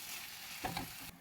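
Crumbled paneer is stirred into a sizzling masala in a pan for paneer bhujia, a brief close hiss with a couple of scraping stir strokes.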